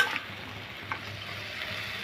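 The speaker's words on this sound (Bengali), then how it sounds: "এখন আমি ধুয়ে রাখা চিচিঙ্গা আর আলুটা দিয়ে দিব। এখন আমি মশলার সাথে ভালো করে মিশিয়ে নিব।" Ridge gourd and potato being stirred into masala frying in a pan, with a soft steady sizzle and a few quiet scraping stirs, close and low in level with no talking.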